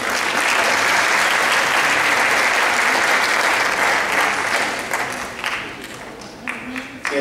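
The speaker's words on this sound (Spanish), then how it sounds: "De María Camila, démosle un fuerte aplauso." An audience applauds an honorable mention winner at an award ceremony, with loud, dense clapping that fades toward the end as a few louder individual claps remain.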